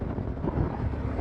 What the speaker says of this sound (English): this wind is killer